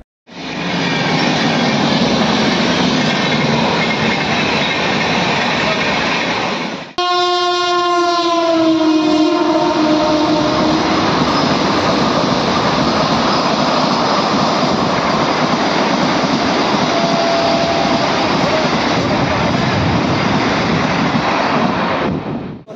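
A Shatabdi Express train sits at a station with a steady, loud mechanical rumble. Around the middle, a long horn blast sounds close by, then fades back into the continuous din of the train.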